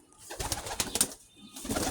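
Pigeons coo in their pigeon house, a soft continuous murmur of overlapping calls up close, rising and falling over a couple of seconds.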